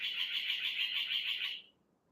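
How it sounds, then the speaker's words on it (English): A strange, unfamiliar bird call: a single faint, high, buzzy trill held for about a second and a half before cutting off, with nothing else around it. "It was a bird, but I've not heard that noise before."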